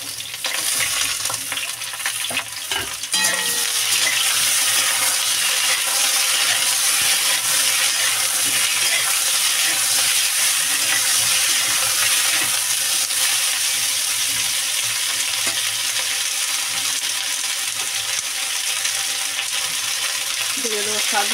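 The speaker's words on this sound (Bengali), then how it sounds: "এবার আমি দিয়ে দেবো আলু আর কাঁচা লঙ্কা দিয়ে দেবো।" Potatoes and green chillies hit a pan of frying bitter gourd, setting off a loud, continuous sizzle after a couple of seconds of clatter, with soft stirring knocks over the steady hiss.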